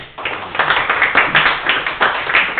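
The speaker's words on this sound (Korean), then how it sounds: "두 분 축하드리고 또 수고하시라고 또 박수 한번" Congratulatory clapping from a small meeting audience, close and fairly loud, with a few bursts of hand claps swelling and fading in a loose rhythm over a couple of seconds.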